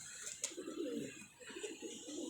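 A pigeon cooing close by, soft low rolling coos repeating in a gentle rhythm, with a few faint higher chirps in the background and no talk.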